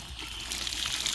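Water gushes from a newly installed frostproof sillcock, a steady outdoor splashing rush that swells slightly after the first half second and continues unbroken.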